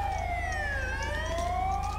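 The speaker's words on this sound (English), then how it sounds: "I'm just gonna make this guy turn off his siren because it's really annoying." Police siren in GTA V with the LSPDFR mod, a continuous wailing tone sweeping slowly up and down, loud and steady over a low engine rumble, with no talking.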